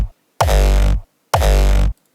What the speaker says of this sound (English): It's just your typical euphoric crunchy sound.